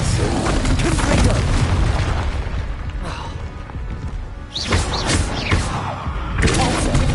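A Confringo explosion spell goes off in Hogwarts Legacy gameplay, a dense booming blast with rumbling low-end and crashing debris, followed by magical whooshes and further impacts.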